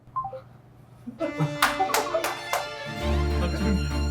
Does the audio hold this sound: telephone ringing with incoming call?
yes